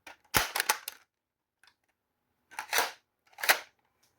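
A Dart Zone Stryker foam dart blaster fires a full magazine of long darts: sharp snapping shots come in a quick cluster, then a pause, then a few more single shots, close and crisp.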